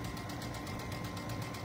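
A sewing machine runs through fabric, a fast steady mechanical stitching patter, faint and close, with no talk.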